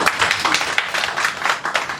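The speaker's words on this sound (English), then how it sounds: "another round of applause for Krishna" Audience applause at a Miss World Philippines send-off press conference, a dense patter of many hands clapping steadily for a couple of seconds at moderate loudness.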